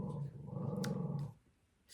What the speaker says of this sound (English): Excuse my dog growling in the background.